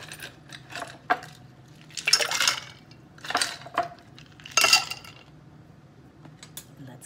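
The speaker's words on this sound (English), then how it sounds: "And let's fill it with ice." Ice cubes clatter into a mixing glass for an imperial martini, several bursts of sharp clinking and rattling spaced over a few seconds, close and fairly loud with no talk.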